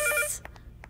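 A telephone rings in one short electronic burst, followed by a few faint pulsing tones in a quiet room.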